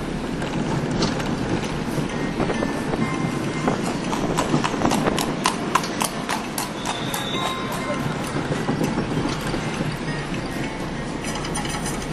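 Hooves clip-clop steadily on a hard road in the port town of Rufisque, Senegal, close and rhythmic, over a rattling cart and busy street noise.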